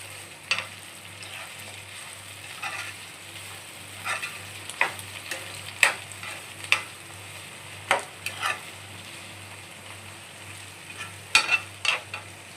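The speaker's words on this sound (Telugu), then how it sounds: "దీంట్లో నీసు వాసన మొత్తం పోయే వరకు గోలించాలి" Chicken curry stir-fried in a pan, a steady sizzle broken by irregular scraping strokes of a spoon against the metal, moderately close and without speech.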